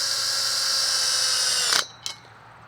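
Ratcheting power tool with a half-inch socket whirring steadily as it tightens a bolt on a greenhouse tension band, then stopping abruptly, followed by one brief click.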